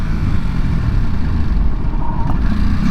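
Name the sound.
Ducati SuperSport 950 S motorcycle downshifting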